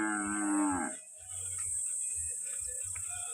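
A cow gives one loud, close, drawn-out moo while grazing in a Kenyan village in the morning, followed by crickets chirping steadily and faint rustling and thumps.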